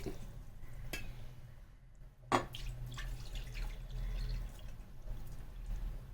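Water is poured into a cooking pot of boti (offal) curry with coconut, quiet trickling and splashing with one sharper splash midway, close and with no one speaking.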